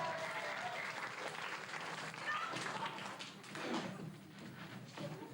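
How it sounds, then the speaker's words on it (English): Steady applause from a school pantomime audience fills the whole stretch, a dense wash of clapping at moderate level with slight swells. "Give him a clap."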